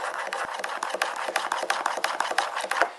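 The edge of a card scraper is burnished to lay the burr flat, giving quick, evenly spaced rubbing strokes, about six per second, that are faint and close, with no talking.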